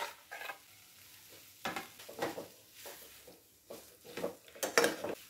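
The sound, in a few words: stir-frying potatoes with masala in pan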